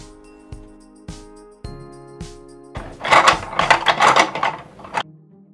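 Plastic crankcase halves of a Discovery model four-stroke engine kit being fitted together: a few evenly spaced sharp clicks, then a denser burst of rattling, scraping plastic contact, all close and clear.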